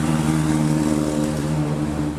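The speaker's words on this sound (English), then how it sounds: "Lots of diesel trucks." Heavy diesel trucks near a busy freeway interchange, a steady low engine drone with rumbling harmonics, loud and continuous with no talk.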